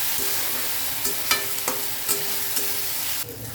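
Ginger-garlic paste fries in hot oil with a steady, even sizzle, while a spoon scrapes and stirs the pan in several distinct strokes.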